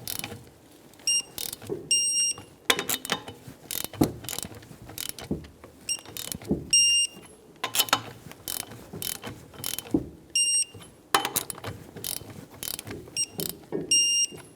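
A torque wrench tightens the wheel lug nuts on a 2007–2012 Nissan Versa. Short bursts of sharp ratcheting clicks repeat at irregular intervals over a quiet background.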